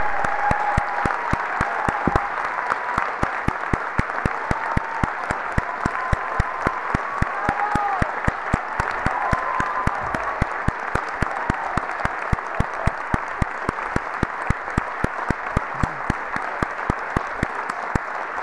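Graduation ceremony audience in a large hall giving sustained, dense applause with scattered cheers, loud and continuous for the whole stretch.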